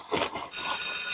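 A telephone rings in a domestic scene, with bright, repeated bursts over about a second.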